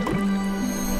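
Brief, wet squishing and gushing of water being shot from a cleaning tool in the game Island Saver, a single continuous spray lasting about a second.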